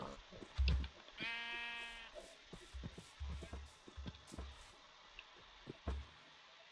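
Bleating sheep in Minecraft Bedrock Edition, one clear drawn-out bleat followed by scattered soft footsteps and small clicks, fairly quiet and near.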